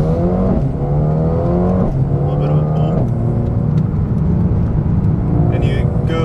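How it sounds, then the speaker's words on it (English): A 2020 Mercedes A35 AMG accelerates hard through the gears, engine note rising in a loud revving sweep, a gear change near two and three seconds, then faint exhaust pops crackling at the end while someone talks briefly. "you go a little bit into fourth gear, and you hear a little bit of pops"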